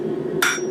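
One sharp, close hammer blow rings out on the corner of a forged steel bottle opener, loud and metallic against a low steady hum, with no talking.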